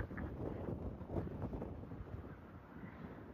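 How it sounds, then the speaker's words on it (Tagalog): Strong wind gusting outdoors on a sunny day, a continuous low rumbling buffet against the microphone with no other clear sounds. "Maaraw pero malakas kasi yung hangin"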